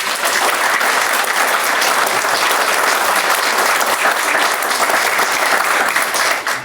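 A large audience at an awards celebration applauds, with loud, dense, sustained clapping that holds steady throughout.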